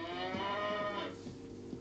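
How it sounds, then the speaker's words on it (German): A single cow moos, a long low drawn-out call that fades off, heard alone and fairly close. "Hier leben 3 Rinder,"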